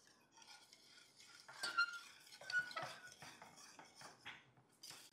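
A utensil stirring thickening patwadi batter in a pan, soft scraping and clinking strokes in an uneven rhythm, close but fairly quiet.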